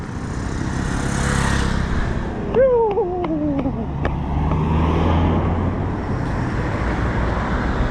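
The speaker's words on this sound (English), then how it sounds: "So there is an army car." An army vehicle passing along a suburban road in Ntinda, a steady roadway rumble with a brief horn-like tonal sweep midway, set amid ongoing street noise and traffic.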